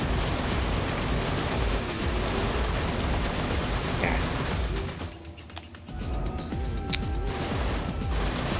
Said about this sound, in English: you can actually aim your machine guns now